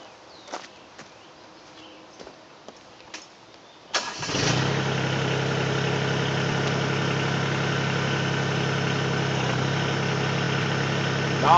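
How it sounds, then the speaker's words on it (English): A few faint clicks and knocks, then a Mahindra eMax20S HST tractor engine cranks and catches, settling into a loud, steady idling rumble that continues to the end. "I'm gonna start the tractor and just show you."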